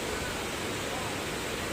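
Rushing water of the Delundung waterfall in Trawas, a dense, steady broadband roar with no breaks, close and filling the whole moment without any voices.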